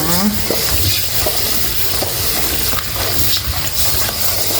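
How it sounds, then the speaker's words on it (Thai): Kaffir limes being washed and kneaded by hand in water, a continuous close sloshing and churning with small splashes throughout. "ต้องล้างแล้วก็นวดดไปด้วย"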